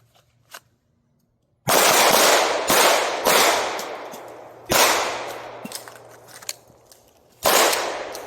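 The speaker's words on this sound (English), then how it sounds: "We're shooting with our dominant hand only." Sharp pistol shots are fired one-handed with the dominant hand on an outdoor range. Several loud, close reports come at irregular intervals, each trailing off into an echo.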